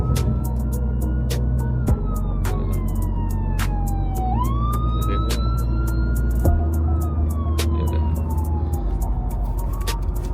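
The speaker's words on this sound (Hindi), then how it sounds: "मेरे पीछे एम्बुलेंस आ रही है" An emergency siren wails continuously from a vehicle approaching from behind in slow Indian road traffic, its pitch sweeping slowly, with sharp horn-like clicks and traffic rumble underneath throughout.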